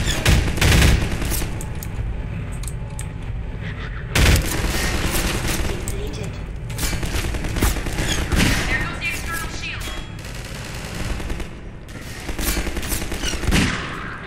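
Rapid bursts of gunfire and loud booms from the video game Half-Life 2 fill the scene, with repeated volleys and brief pauses between them, and a voice talks over parts of it.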